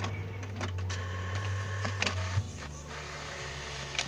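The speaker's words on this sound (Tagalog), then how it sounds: "Printer." A printer runs steadily in a game, a continuous mechanical whir and hum with faint clicks and scraping rising over a low drone, fairly quiet and with no one talking.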